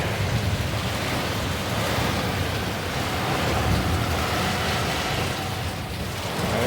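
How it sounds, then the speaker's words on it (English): Heavy rain pours steadily during a rainstorm in Blueberry, Minnesota, a dense, even hiss of falling water that stays constant and close throughout with no other distinct sounds. "we got ourselves a rainstorm today"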